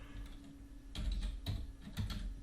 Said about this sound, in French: Je vais taper par exemple